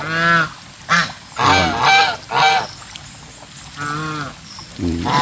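Geese in a backyard farm honk repeatedly, loud and close, in a series of harsh, nasal calls overlapping one another with short gaps between bursts.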